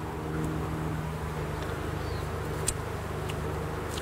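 Honey bees swarm over a brood comb in a Demeter-managed hive, making a steady, dense, close buzzing drone with no breaks for the whole stretch.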